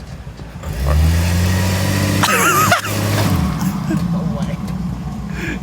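A car doing a burnout, its engine revving hard and climbing in pitch for a few seconds before dropping back, with a man's brief exclamation over it.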